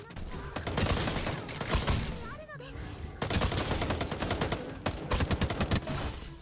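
Gunfire in the battle royale game Fate Trigger: rapid automatic bursts in several loud volleys with a short lull between, under occasional talk.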